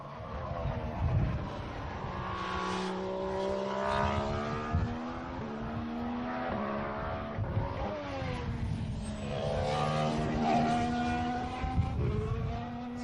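Mercedes- and Renault-powered 2014 Formula 1 cars corner during Bahrain testing: a continuous, loud, harmonic engine whine slides down and back up in pitch as the cars brake and accelerate, with gurgling undertones and no talk.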